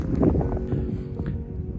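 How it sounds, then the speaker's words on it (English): Steady wind gusting across open prairie coulees in a Lethbridge park, a continuous low rushing roar buffeting close to the microphone with no voices. "You can't forget wind either."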